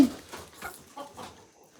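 A farmyard chicken clucking nearby in a few short, soft calls over about two seconds, with no speech over it.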